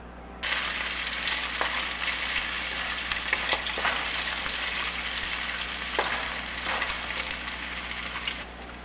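Bacon strips frying in a pan for cabbage and sausage, a steady dense sizzle with small pops and crackles running continuously throughout, close and fairly loud, with no talking.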